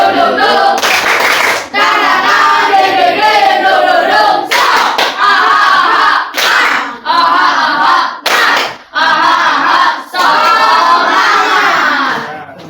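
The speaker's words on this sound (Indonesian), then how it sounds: "Kita pakai tepuk semangat, ya." A classroom of standing schoolchildren performs a rhythmic spirit clap together, loud, close group clapping mixed with energetic shouted chanting in repeated bursts separated by short pauses.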